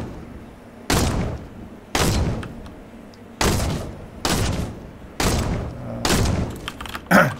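In Fortnite, a gun fires in six sharp, loud bursts spaced about a second apart during a fight against opposing players, with a fainter clatter at the very end.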